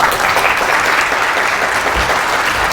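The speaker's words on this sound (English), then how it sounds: "Please welcome him with applause." A conference audience at PyCon APAC 2016 welcomes a speaker with steady, full applause, a dense wash of many hands clapping at a fairly loud level from start to finish.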